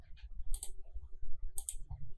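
Key presses on a computer keyboard, the Alt key tapped while panning in 3ds Max, give soft close clicks over a low background hum, with a couple of brighter taps standing out.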